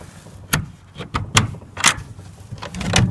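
Several sharp metallic clicks and knocks of top and bottom latches being worked on a chicken coop door, followed by a hollow wooden door rattle, close by.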